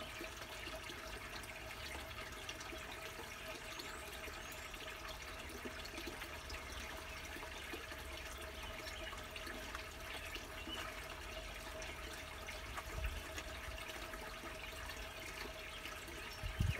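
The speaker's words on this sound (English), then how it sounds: "I'm gonna just flow a bunch of water through this to get this soil moistened" Steady stream of water flowing through soil for planting irises in a turtle pond, a continuous even rush and trickle with no breaks throughout.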